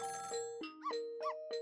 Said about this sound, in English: It was the sound of the telephone ringing coming from the apartment next door.